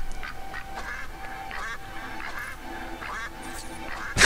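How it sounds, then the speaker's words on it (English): Cartoonish quacks from a duck hat worn by a character in a LEGO video game, a rapid string of short duck calls sounding with each run and jump, fairly close over steady game background sound. "That's the duck hat, which is amazing. Makes quacking noises when running and jumping."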